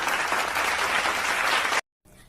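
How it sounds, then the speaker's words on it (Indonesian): A classroom of students claps for a fellow student in a dense, steady burst that stops abruptly, followed by faint room noise. "Ayo kita beri tepuk tangan untuk Indah"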